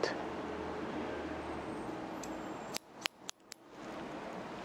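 Scissors make a few crisp, quick snips while cutting hair during a short bob haircut. The snips come near the end over a soft background hiss, and no speech is heard.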